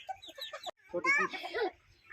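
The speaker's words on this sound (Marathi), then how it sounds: "बघ किती कोंबड्या निघाल्या पळत्या" Several hens cluck and squawk in bursts, fairly close, with brief quiet gaps between the calls.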